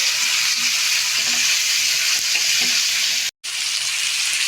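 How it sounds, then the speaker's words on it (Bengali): Potatoes, garlic and green chillies fry in hot oil during stir-frying for a Bangladeshi poi shak seed and dried fish dish. The sizzle is steady and close, with a few soft stirring scrapes and a brief dropout near the end. "কষানোর ভিতরেই আমি এই যে আলু আর রসুন আর কাঁচামরিচ একসঙ্গে দিয়ে আরেকটু ভেজে নিব।"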